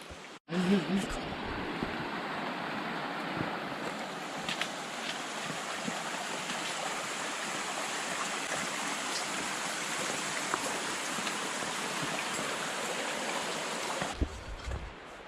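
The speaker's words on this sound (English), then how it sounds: "Sounds like a little rushing waterfall." A small waterfall rushes steadily along a forest trail in Linville Gorge, a continuous near wash of falling water that holds even and unbroken, with a light breeze in the treetops.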